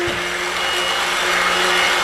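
A stick blender running briefly in cold process soap batter, a steady close motor whir with a faint hum, unbroken for about two seconds.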